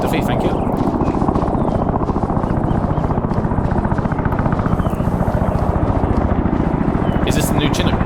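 A CH-47 Chinook helicopter in the military game ArmA 3 makes a loud, steady rotor thump with constant chopping pulses and a whining engine beneath, while voices talk over it now and then.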